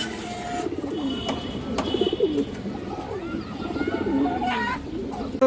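Pigeons in a breeder's loft coo softly and repeatedly in low, rolling phrases, with a few brighter chirps and a steady background hum throughout.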